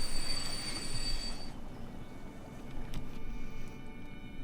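A train in the Transport Fever 2 game rumbles steadily along the rails with a thin, high wheel squeal early on that fades out, leaving a continuous low rolling sound and no voices.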